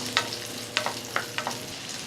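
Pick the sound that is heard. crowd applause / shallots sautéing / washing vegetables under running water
shallots sautéing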